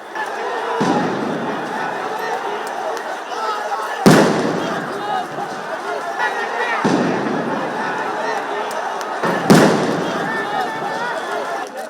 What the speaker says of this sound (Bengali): একে একে বেশ কয়েকটি সাউন্ড গ্রেনেড নিক্ষেপ করে সমাবেশ ছত্রভঙ্গ করে দেয় পুলিশ।